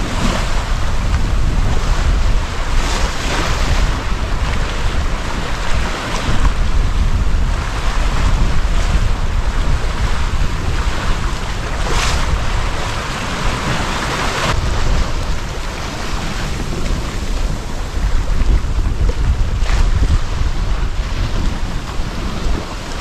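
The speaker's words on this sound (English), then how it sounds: "10 minutes later, the wind has really picked up." Strong wind buffets the microphone aboard a sailing yacht off New Zealand while waves rush and slap against the hull, a loud, continuous roar with gusty surges and no voices.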